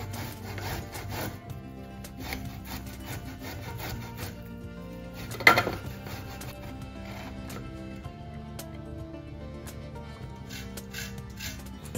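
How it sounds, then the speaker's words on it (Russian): Suluguni cheese being pushed across a coarse grater makes a rhythmic, scratchy rasp of repeated strokes, close and fairly quiet. "И вот таким вот образом пропускаем через крупную терку."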